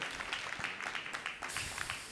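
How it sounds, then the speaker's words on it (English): Audience applause at Breakpoint 2023, a Solana blockchain conference, heard as steady dense clapping from a large crowd that sounds somewhat distant and fairly quiet, continuing for about two seconds. "please give a round of applause to Brendan"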